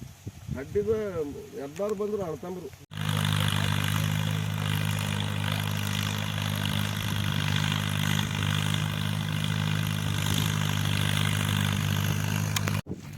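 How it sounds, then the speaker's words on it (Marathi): A voice speaks briefly, then a tractor engine working a farm field for ploughing takes over as a steady, mid-loud rumbling drone that runs evenly to the end. "तिथं ट्रॅक्टर चालू आहे"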